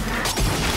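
Finisher effect from the Valorant Arcane 2.0 bundle: a short burst of layered game effects with a heavy crash and low boom near the middle, loud and dense, without talking.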